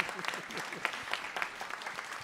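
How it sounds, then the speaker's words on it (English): Audience members at a game event applaud the developers in the room, a soft, steady patter of many hands clapping at a distance with a few sharper claps standing out. "you can also applaud them for their really good work on the game"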